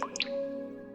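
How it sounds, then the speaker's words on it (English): Liquid drips into a pot on the floor, a couple of quick small plops that leave a faint ringing tone fading out in a quiet room. "as the dripping continues, the liquid begins collecting in a pot on the floor"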